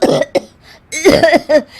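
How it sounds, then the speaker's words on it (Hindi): Two women cough harshly close by, a couple of quick hacks followed by a longer rasping fit, loud and alone. "दोनों खांसने लगती है।"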